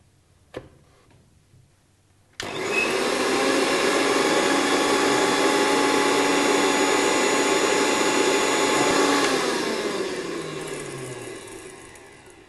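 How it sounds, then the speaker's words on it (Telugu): After a short click and faint handling noise, a mixer grinder grinding spices into powder roars loudly and continuously for several seconds, then winds down as the motor slows. "వీటన్నిటిని కూడా కలిపేసి మనం మిక్సీ చేసుకొని పొడిలా చేసుకోవాలి"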